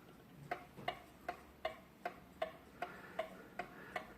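Pendulum of a Pfeilkreuz c1910 castle style alarm clock ticking evenly, about ten crisp ticks spaced under half a second apart, quiet and close with no other sound.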